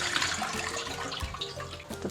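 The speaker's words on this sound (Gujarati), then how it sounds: "તો આ પાણીને આપણે આ ટબમાં એડ કરી દઈશું." Ordinary tap water is poured into a tub, a soft continuous gush and slosh heard close but fairly quiet, with no one speaking.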